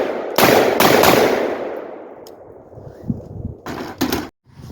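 A Davidson Defense AR-47 rifle with a 16-inch barrel fires outdoors at night. One loud close shot rings out and decays, then a quick cluster of further sharp shots follows a few seconds later.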